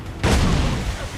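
Pirate ship cannons booming in a naval battle in Assassin's Creed IV Black Flag, a loud broadside blast with a rumbling tail that fades over about a second.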